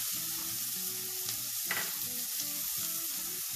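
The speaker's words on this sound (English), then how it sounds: "I'm going to cook till the onion gets brown in color." Onions with a little salt frying in a pan for chole bhature, a steady close sizzle under a looping melodic background tune, with a brief stir near the middle.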